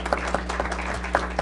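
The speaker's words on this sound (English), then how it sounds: "So I think Ted deserves a round of applause." An audience at a developer day event claps briefly, a short burst of scattered claps with a few distinct loud hand strikes over a steady low hum.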